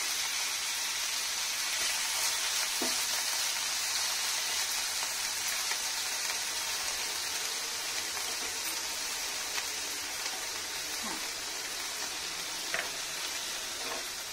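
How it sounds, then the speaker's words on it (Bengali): Chopped garlic, added after onions, frying in hot oil in a pan: a continuous bright sizzle with scattered small pops and crackles, steady and fairly close, with no voices. "এগুলো একটু লাল করে ভেজে নিব"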